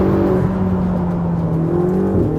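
A Ferrari 488 GTB's turbocharged V8 idles and burbles with a deep, throaty rumble, swelling briefly into a slight rev before settling back down.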